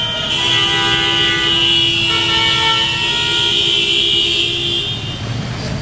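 Car horns honking in chaotic Cairo street traffic, heard from a hotel room with sustained overlapping blasts at several pitches layered over a constant traffic roar.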